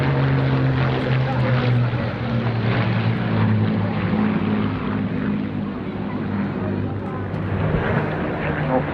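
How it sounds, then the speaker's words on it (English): Bristol Blenheim bomber and Spitfires of a D-Day memorial flight passing at a seaside airshow, a loud sustained propeller engine drone with steady low tones, and indistinct voices underneath. "There was something majestic and commanding about the D-Day memorial flight, featuring the Blenheim and the Spitfires."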